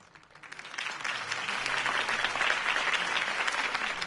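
Crowd applause swells after a political campaign speech in the Batman Telltale video game, a dense steady clapping that rises over the first second and holds loud and continuous to the end.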